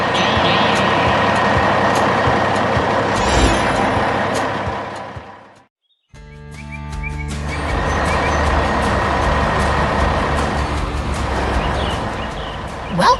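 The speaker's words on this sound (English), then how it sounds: "Loaded high and ready for the road, that dump truck carries the town's future away." An animated dump truck drives away with a loud, continuous engine rumble and road noise that briefly cuts to silence midway, then resumes at full strength.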